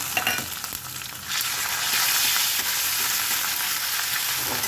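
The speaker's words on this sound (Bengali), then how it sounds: "এবার এই আদা রসুনের পেস্টটা দিয়ে দিলাম" Ginger garlic paste hits hot oil with fried onions in a home kitchen, giving a loud, steady sizzle that swells after a brief stir and keeps going.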